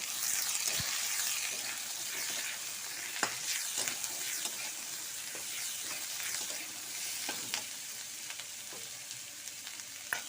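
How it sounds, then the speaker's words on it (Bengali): Chopped tomato, cauliflower, capsicum, carrot and potato are stirred in a hot pan for samosa filling, with a steady frying sizzle and a spoon scraping and clicking against the metal at irregular intervals. "টমেটো আছে, ফুলকপি আছে, ক্যাপসিকাম, গাজর, আলু সব দিয়ে দিলাম। দিয়ে ভালো করে নাড়বো।"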